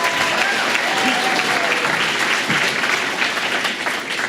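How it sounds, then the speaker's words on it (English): Sustained applause from an awards ceremony crowd, dense and even clapping that holds steady throughout with no voices standing out. "Let's give them another round of applause, please."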